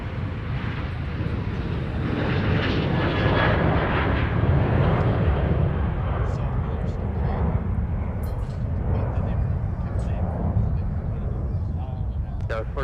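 An airliner takes off from runway 30 left at MSP airport, its jet engines a sustained loud roar that swells and holds across the stretch, partly under radio chatter from air traffic control.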